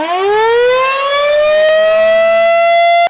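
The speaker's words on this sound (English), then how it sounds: "I activated the outdoor warning sirens at 10 o'clock this morning, participating in the statewide tornado drill" An outdoor tornado warning siren wails loud and steady during a statewide drill in Lancaster County, Nebraska, its rising mechanical tone sweeping up and holding a sustained howl with no voices over it.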